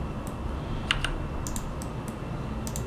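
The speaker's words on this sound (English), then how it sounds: "I can actually press G on my keyboard," Computer keys pressed in a hand-rigging session in Blender 4.1, a handful of light, crisp clicks spaced irregularly over low room hum, with close, quiet taps and no talk.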